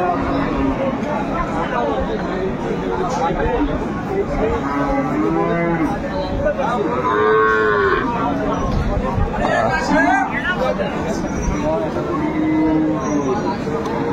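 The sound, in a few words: cow and calf mooing at a cattle market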